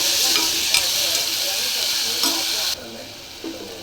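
Ingredients fry loudly in a pan while a spoon stirs them, with occasional scraping knocks. The sizzle suddenly drops to a quieter fry near the end, with one more scrape after it.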